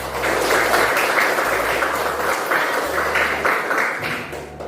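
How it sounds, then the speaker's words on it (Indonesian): Applause from a classroom or training audience at a morning session, a steady dense wash of clapping lasting several seconds without a break, moderately loud and close. "Tepuk tangan."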